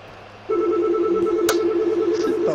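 A steady telephone tone rings out close and loud after half a second of low background noise, holding a sustained pitch with a short click partway through.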